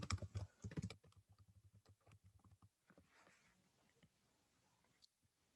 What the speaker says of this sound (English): If I were to start typing something here